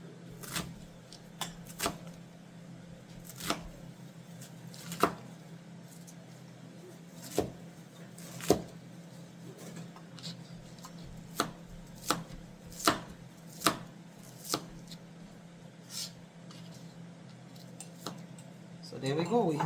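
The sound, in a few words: dicing and slicing onion with knife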